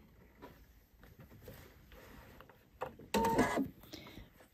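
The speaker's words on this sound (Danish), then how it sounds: "Så skal jeg sy flæsen på" A sewing machine stitches a gathered ruffle onto a garment piece, a short loud burst of rapid stitching after soft fabric handling and shuffling sounds.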